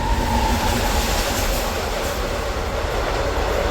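A second train overtakes alongside a moving MEMU passenger train, a loud continuous rush of wheels and rail noise close by, steady throughout with no talk.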